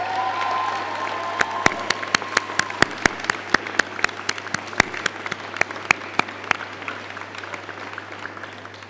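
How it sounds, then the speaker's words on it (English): An audience at a university graduation and commencement ceremony in Switzerland applauds, sharp individual hand claps popping over a dense bed of clapping that slowly thins out toward the end. "Let's applaud them."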